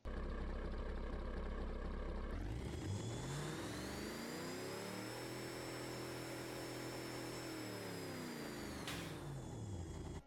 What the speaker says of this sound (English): This sedan has a twin turbocharged engine which makes it sound like a vacuum cleaner.